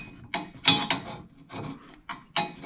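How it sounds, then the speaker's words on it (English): Old exhaust header gasket scraped off a 1965 Mustang with a ground-down screwdriver used as a scraper, giving a series of short, close, gritty rasping strokes with brief pauses between them. "We're just scraping off the old gasket because this is like really on there."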